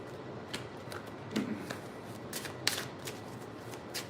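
Tarot cards being shuffled at close range, quiet soft riffling with a few sharper ticks and card snaps spread across a few seconds, no talk.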